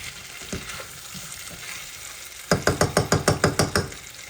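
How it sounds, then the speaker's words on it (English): Potatoes frying in a pan with pepper and salt, hissing steadily while a spatula stirs, then a quick run of about nine regular scraping flips, close and fairly loud, with no talking. "You gotta continuously cook, stir it, and flip it like this"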